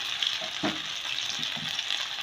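Potato mixture frying in hot ghee, a steady close sizzle with a few soft stirring knocks, no talking.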